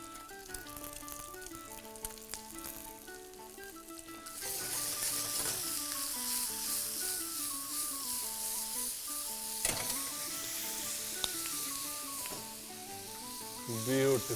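Egg and tomato sizzle in a hot pan, the frying hiss growing louder and denser partway through, with tonal music playing steadily underneath.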